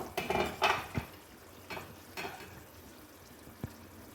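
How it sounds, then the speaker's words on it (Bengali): Rohu fish korma being stirred in a pan: a few scattered scrapes and clinks of a spatula against metal, with soft sizzling between, faint and sparse, no voices. "মাছগুলো আমরা একটু নেড়ে চেয়ে দেবো"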